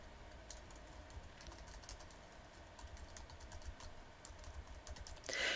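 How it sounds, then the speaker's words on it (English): Steady, quick keystrokes patter on a computer keyboard as a website address is typed, faint and close, ending in a louder burst of keys. "type in the website that you want to test."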